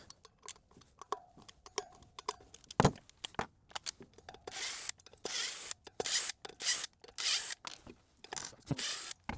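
Torx T30 bolts on the rear brake rotor of an E-Ride Pro SS 2.0 electric motorbike being broken free with a wrench: a quick run of sharp metallic clicks and ratcheting, then louder grinding bursts, close up with no talking.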